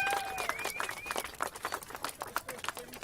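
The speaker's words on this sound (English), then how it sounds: "Round of applause." Faint, scattered applause from an outdoor crowd at a science march rally in Melbourne, irregular claps patting through the background under a thin layer of other noise.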